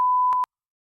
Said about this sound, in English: I'm just beeping you out.